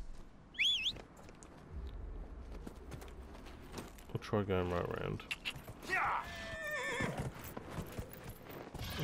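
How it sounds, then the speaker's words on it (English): Horse hooves clip-clop in a steady run and a horse whinnies sharply in Dragon Age Inquisition, with mechanical in-game effects and a person talking over the gameplay. "Right, let's get the horse."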